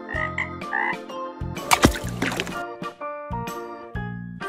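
Frog croaking in repeated loud, close calls, with a series of deep croaks broken up by brief splashy water sounds. The animal sound appears in a playful challenge involving a swimming pool.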